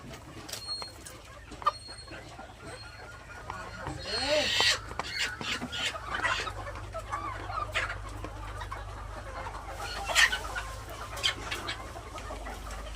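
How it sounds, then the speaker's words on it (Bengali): Egg-laying hens clucking and squawking inside a farm shed, a steady murmur of fowl calls with occasional louder cackles, with someone talking over them throughout. "এটা হলো আমাদের ডিম পাড়া মুরগির শেড"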